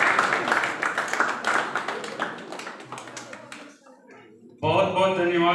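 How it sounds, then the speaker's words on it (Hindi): Audience clapping at a university geography department farewell and honour ceremony, a dense burst of many hands that fades out over a few seconds before a voice begins speaking. "आप लोग तालियां बजाएं"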